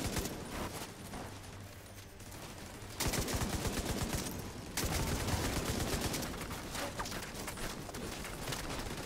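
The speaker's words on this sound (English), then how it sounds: "Shooting his backpack." Bursts of rapid gunfire hit an enemy in The Division 2 shooter, with dense crackling volleys that stop and restart several times across the stretch, fairly close and without speech.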